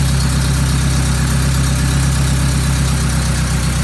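Honda Integra B20 VTEC engine idling, a steady, loud, even rumble that holds constant throughout with no revving or talk.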